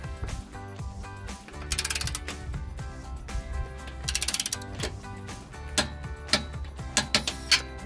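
A torque wrench clicks and ratchets while muffler bolts are tightened to 40 to 45 foot-pounds on a 2019-2023 Silverado during an aFe Apollo GT 3-inch muffler install. The sharp, repeated metallic ticks grow more distinct toward the end over a steady background.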